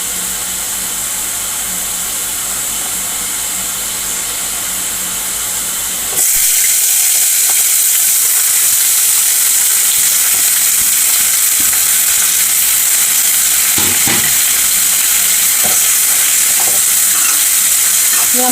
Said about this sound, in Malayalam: ഇവിടെ അരിഞ്ഞ് വെച്ച സവോളയും തക്കാളിയും കൂടെ ചേർത്ത് കൊടുക്കാണ്.